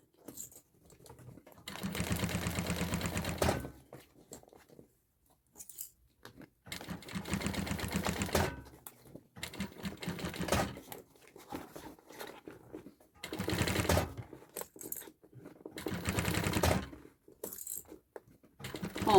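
A sewing machine backstitching through a bag runs in short bursts of a few seconds each, separated by pauses filled with faint handling clicks and rustles.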